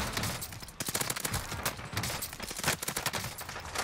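Gunfire in the video game Call of Duty Warzone: a steady stream of rapid automatic shots, dense and loud throughout, with overlapping bursts and no pauses.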